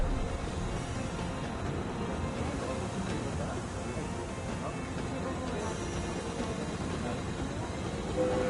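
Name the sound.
train running, in a video game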